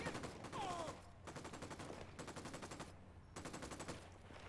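Rapid automatic gunfire in Ghost Recon Wildlands, several sustained bursts of fast repeating shots separated by brief pauses, fairly close and steady.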